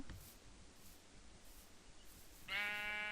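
Minecraft sheep giving a single clear bleat near the end, preceded by faint rustling game background.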